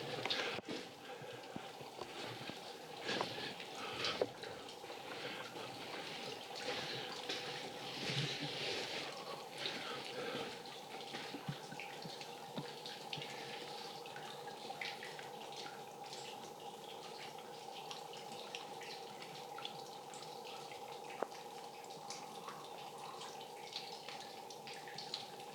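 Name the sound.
water dripping inside Lake Cave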